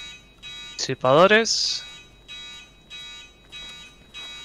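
In Escape from Tarkov, an alarm pulses in repeated evenly spaced bursts at moderate volume while a player speaks briefly over it partway through.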